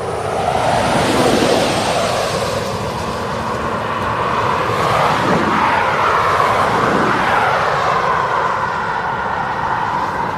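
Jet airliner taking off from the runway at East Midlands Airport, a steady loud engine roar swelling and rushing throughout with a broad continuous rumble, heard alone from nearby.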